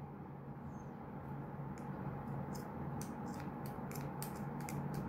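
Scissors snip through a woolen braid on a handmade mat, a series of faint, crisp cuts that quicken toward the end, heard close against a quiet hissing background with no talking.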